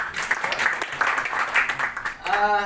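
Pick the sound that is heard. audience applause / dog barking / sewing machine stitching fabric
audience applause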